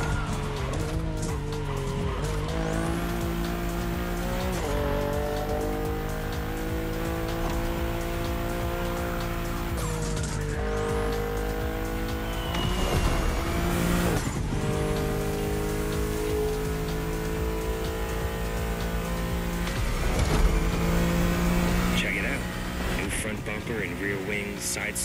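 A BMW M4 in the Motorfest racing game drives with a sustained engine roar, repeated revs and gear shifts climbing in pitch, and occasional tire squeal, with rain-like noise and talking over it.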